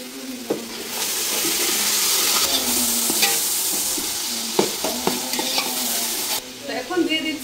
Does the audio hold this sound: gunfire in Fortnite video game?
no